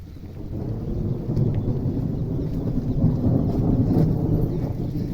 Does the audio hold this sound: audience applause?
no